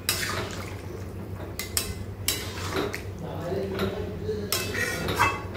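Chilli chicken gravy is stirred in a pan, giving repeated metallic scrapes and clinks of a utensil against the pan along with a bubbling liquid, while a person talks at intervals.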